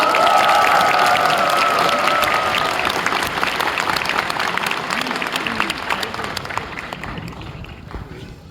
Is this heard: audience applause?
yes